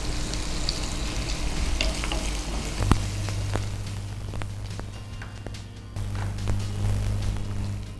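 Onions fry in hot oil in a pan with a constant sizzle, while a utensil scrapes and clinks as they are stirred, close and moderately loud, with no voices.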